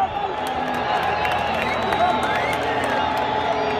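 A large stadium crowd at a Mexico vs Jamaica Copa America Centenario match makes a steady, dense roar of massed voices, continuous and loud throughout, with someone speaking nearby over it.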